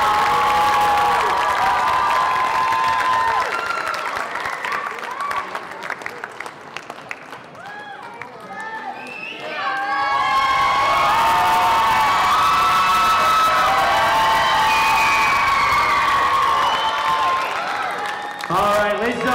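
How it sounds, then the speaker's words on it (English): At a school Idol singing competition, a large audience claps, cheers and whoops as contestants take the stage, the loud crowd noise dipping midway then swelling again, with children shouting and some voices mixed in. "Let's give them all a big round of applause as they take the stage."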